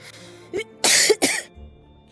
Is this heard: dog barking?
no